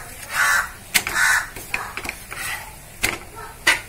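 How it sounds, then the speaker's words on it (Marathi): A crow caws repeatedly nearby in a home setting during food preparation. Several loud, harsh calls come at uneven intervals, with sharp clicks in between. "कावळा आलाय"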